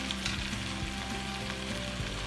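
Potatoes and onions fry in a pan with a steady, dense sizzle and crackle that holds throughout, close and loud, with low bumps and scrapes underneath.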